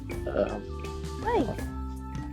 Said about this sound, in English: There's a sheep there, or a goat.